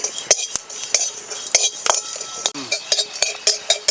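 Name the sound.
frying whole fennel, cumin and cardamom in a wok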